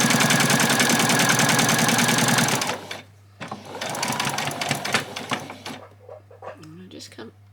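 A sewing machine runs a fast, loud, rapid stitching burst along an apron hem for a few seconds, then stops, followed by quieter handling clicks and a voice speaking.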